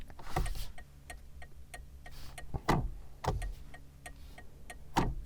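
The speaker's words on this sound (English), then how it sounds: "there are some noises I do like, such as this, the indicator click." A Rolls-Royce Spectre electric car's turn indicator clicking steadily in a quiet cabin, soft regular tick-tock clicks with a few louder thumps mixed in.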